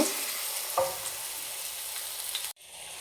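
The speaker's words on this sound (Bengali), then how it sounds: "চোবানো হয়ে গিয়েছে, এখন তেলের ভিতরে ছেড়ে দেব।" Coriander leaves dipped in gram-flour batter fry in hot oil, giving a steady close hiss and crackle that runs on and then breaks off abruptly near the end.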